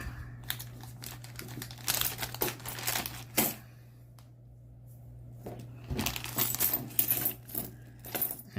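Foreign coins pour and jingle out of a bag in bursts of metallic clinks, rattles and crinkling, with quieter pauses between handfuls; a steady low hum runs underneath throughout.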